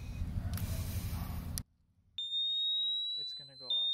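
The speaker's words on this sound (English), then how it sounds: "that is the warning alarm" After a short burst of rumbling noise and a pause, a high, piercing electronic warning alarm from an ABUS Bordo Big 6000 bike lock sounds continuously, with a voice speaking briefly underneath.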